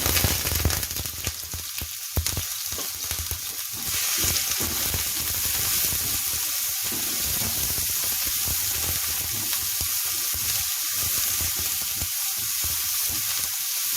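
Onion and capsicum frying on a medium flame for paneer frankie, a steady close sizzle with spitting crackles that continues alone the whole time.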